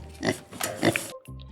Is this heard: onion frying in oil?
no